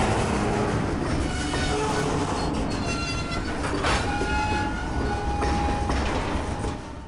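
A train rumbles steadily in a video game, wheels rolling with metallic squeals and faint clatter, the sound loud and continuous throughout.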